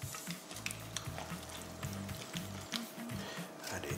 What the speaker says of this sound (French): Et je vais rajouter tranquillement mes pommes de terre et mes oignons